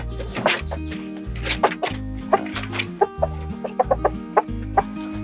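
Free-range KUB chickens, a native Indonesian village breed, cluck in short repeated bursts over a steady pulsing background rhythm, with several sharp clucks close by.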